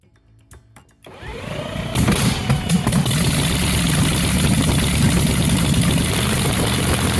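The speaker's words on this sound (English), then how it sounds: "The Linwood dragster packs a brutal V8, smooth on methanol, then absolutely explosive on nitro." A brutal V8 dragster engine running on methanol and nitro, quiet at first, then firing up after a second into a loud, sustained, dense roar that holds steady to the end.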